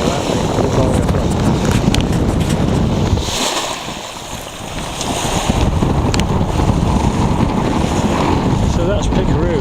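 A sailboat moving nearly under full sail at sea, with loud continuous wind buffeting the microphone and water rushing along the hull, the roar dipping briefly midway before returning.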